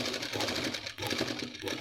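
Sewing machine stitching the hem of a closed kameez, running steadily and close with a fast whirring rhythm that pulses slightly as the fabric is fed, with no talking.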